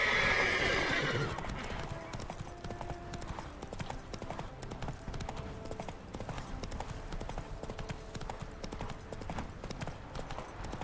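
Roach, Geralt's horse in The Witcher 3, neighs loudly once at the start, then trots on with steady, moderately quiet hoof clip-clops over an ambient game background.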